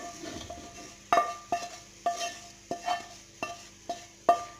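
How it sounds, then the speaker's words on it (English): Fried onions go into a pot of mukimo and get stirred through, giving a run of about seven sharp metallic clinks and scrapes of a spoon against the pot at a steady pace, close and fairly quiet. "Return back my mukimo and add now the onions."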